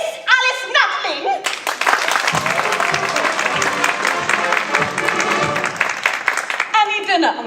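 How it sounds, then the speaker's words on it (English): A loud burst of audience applause with cheering at a school musical theatre performance of The Mystery of Edwin Drood, filling most of the clip, framed by brief bits of voices at the start and end. "a warm round of applause, if you please"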